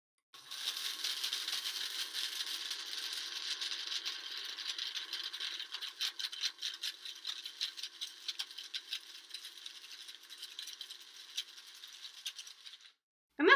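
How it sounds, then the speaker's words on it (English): A hand grinder grinds dried ashwagandha root with a close, steady rasping crunch. Ratcheting clicks repeat rapidly for about twelve seconds, then the grinding stops abruptly, with no talk. "now I'm going to grind it a little bit more with the other grinder bottom"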